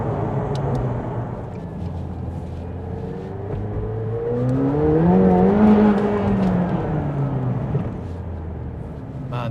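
A McLaren 720S in track mode accelerates with a steady low engine drone that climbs into a louder rising wail mid-run, then eases back while still pulling. The engine noise is heard from inside the car.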